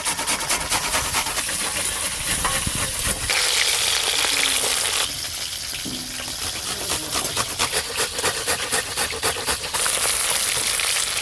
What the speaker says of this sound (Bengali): এবার পেঁয়াজ গ্রেট করে নেব।